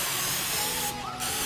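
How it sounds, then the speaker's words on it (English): A short hissing burst of nonstick cooking spray coats gluten-free pizza dough on a rimmed baking sheet, lasting about a quarter second against a quiet kitchen background. "we're gonna give it a good spray"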